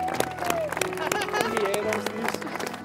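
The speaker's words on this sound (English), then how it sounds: "Lads, can we have a round of applause, please?" A group of Everton Under-21 footballers and community volunteers give a round of applause: a brief burst of scattered, irregular claps mixed with crowd murmur and a few whistling sounds, fairly close.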